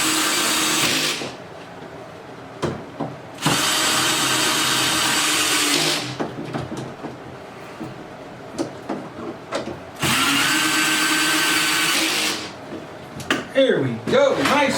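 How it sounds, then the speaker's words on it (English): A power drill drives screws into Mainstays furniture during assembly, with three long, loud motor bursts of steady whine separated by pauses that carry clicks, handling noise and brief speech. "now you can just go ahead and tighten those down"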